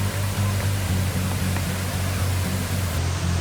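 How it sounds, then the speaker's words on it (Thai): Thi Lo Su waterfall in Umphang, Tak, Thailand: a steady broadband roar of falling water, as heard while approaching, with a low throbbing hum underneath and no voices. "เหมือนได้เสียงน้ำตกมันใกล้เข้ามาละ"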